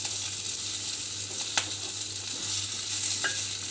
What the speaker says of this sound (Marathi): आता हे हलवून घ्यायचं आपल्याला चांगलं, मस्त असा सुगंध येतो मिरचीचा।